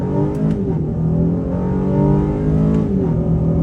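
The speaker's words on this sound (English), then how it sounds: "we'll try out sport mode and the paddles, starting it off in first gear on the gas" 2023 Honda Ridgeline pickup accelerating hard in first gear in sport mode from inside the cab, a loud steady engine drone rising in pitch, easing briefly before climbing again.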